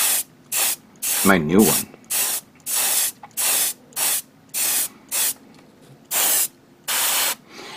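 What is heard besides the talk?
airbrush spraying VicHobby paint thinned with water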